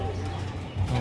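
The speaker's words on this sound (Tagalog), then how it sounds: "Ang dami ng ibon ni Papa." Pigeons cooing inside a loft of fighting birds, low steady coos layered close together and continuous throughout, with louder bursts near the end.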